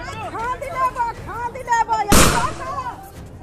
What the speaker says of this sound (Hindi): पहले लाठी डंडे चले, पत्थरबाजी हुई और फिर फायरिंग